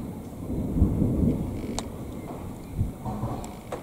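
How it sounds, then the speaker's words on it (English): Thunder rumbling during a thunderstorm over the forest around Lake Waikaremoana in Te Urewera: a low, sustained rolling rumble with a swell early on and a second, softer surge later, heard alone with no talk. "That was definitely thunder."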